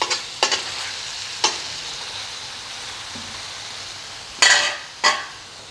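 Liver (kaleji) cooking with spices on a tawa, with a steady soft sizzle under several sharp metallic stirring scrapes and clinks of a utensil against the pan, close up and with no talking.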